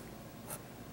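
Ink pen drawing on paper: a soft, faint, continuous scratch of the nib across the page for under a second, close and quiet.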